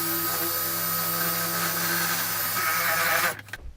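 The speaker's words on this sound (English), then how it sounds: "I'm just going to drill this initial hole out and secure this one" A power drill whines steadily at close range for about three seconds while drilling a hole to fit bodywork on a Ducati 748 motorcycle, then winds down and stops.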